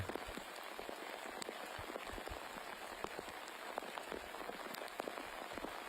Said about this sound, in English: This rain is not going to slow up anytime soon